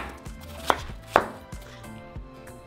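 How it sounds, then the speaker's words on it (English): A knife cuts a peeled watermelon into blender-sized pieces for watermelon and cucumber agua fresca, with two sharp, distinct chops against a cutting board over soft background noise and faint thuds. "And just cut it in pieces big enough so they can fit your blender."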